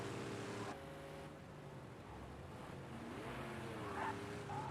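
A Chevrolet Camaro in the Project CARS 2 game does donuts, its engine droning and rising in pitch as the tires skid and squeal faintly, all at low volume.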